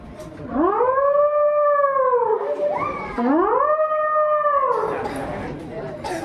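A voice imitates a wolf howling at a school inter-house cultural competition: two long rising-then-falling howls, loud and close, with some background noise at the end.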